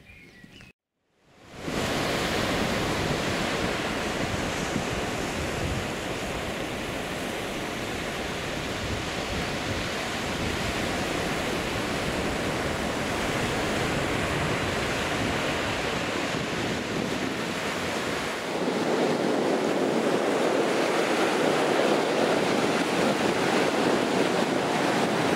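Waves and wind at Pakiri Beach, New Zealand, a loud, continuous rush of surf with gusty wind buffeting the microphone, starting after a brief quiet moment and swelling slightly toward the end.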